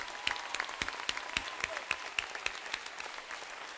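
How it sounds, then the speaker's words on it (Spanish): Steady clapping from an audience, many hands striking at once with a few sharper claps standing out, no voices over it. "Este aplauso nuestro para vosotros."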